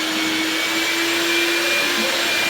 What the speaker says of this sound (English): running the shop vac